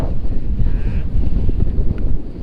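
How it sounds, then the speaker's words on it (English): Strong wind gusting across an open hillside in the Brecon Beacons, South Wales, buffeting the microphone with a loud, continuous low rumble for a couple of seconds. "It's so windy here."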